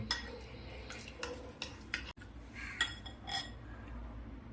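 A spoon mixes tandoori cauliflower batter with lemon juice and white oil in a bowl, giving a series of close, irregular clinks and taps against the bowl with no voices.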